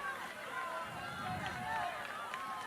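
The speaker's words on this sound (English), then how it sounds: "The crowd is loud." Loud crowd noise fills a college softball stadium during an Alabama Crimson Tide versus Samford Bulldogs game, a steady roar of cheering and shouting with a commentator talking over it.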